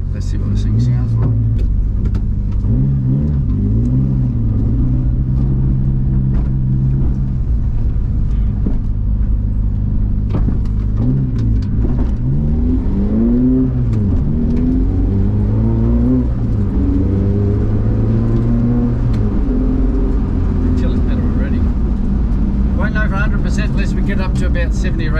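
A Suzuki Carry engine revs up and down repeatedly, rising and falling in pitch, loud and close, with the rumble continuing throughout and brief speech over it.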